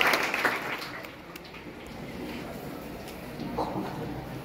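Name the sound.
applause at a spiritual discourse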